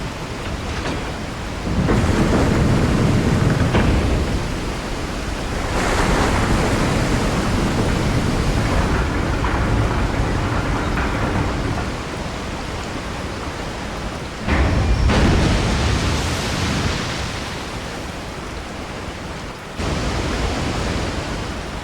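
A waterfall in the Resident Evil 4 video game roars as a loud, continuous broadband rush of falling water that swells and dips in intensity throughout, with no talking.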